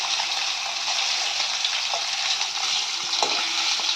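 Fish frying in a pan on a tall gas stove, a steady close hiss of hot oil running throughout with a few faint soft clinks near the end, no talking.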